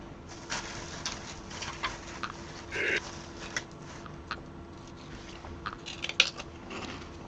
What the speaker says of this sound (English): Probably shouldn't be munching on prawn crackers.